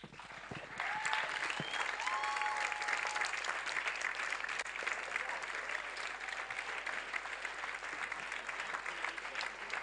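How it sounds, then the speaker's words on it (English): A congregation at a church service claps in sustained, steady applause that fills the room for ten seconds, with faint voices mixed into the crowd noise. "Oh, keep clapping."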